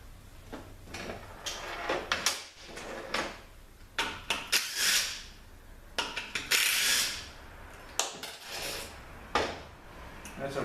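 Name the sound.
getting a socket out of a tool drawer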